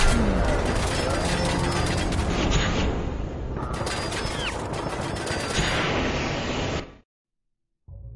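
Gunfire in the video game Fallout 4: loud, dense bursts of rapid shots with booming impacts, continuous for about seven seconds, then a sudden cut to silence before the game sound briefly returns.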